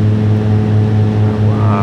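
Twin piston engines of a Piper PA-31 Navajo in cruise flight over the Bahamas, a loud steady droning hum with strong low harmonics as power is reduced, tone shifting slightly near the end.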